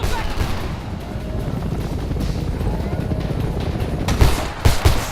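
Battle scene in the video game Homefront, with dense, loud gunfire and sharp shot bursts over a constant rumbling roar, strongest near the end.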